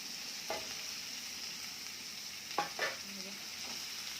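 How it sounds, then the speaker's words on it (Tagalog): Corned beef sautéing with bitter gourd (ampalaya) in a pan gives a faint, steady sizzle, with a few brief stirring scrapes and clinks of the utensil against the pan. "Gisa natin yung corned beef dito sa ampalaya."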